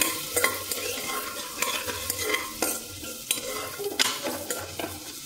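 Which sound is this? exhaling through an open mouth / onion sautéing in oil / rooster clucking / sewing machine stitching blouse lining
onion sautéing in oil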